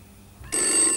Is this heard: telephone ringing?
yes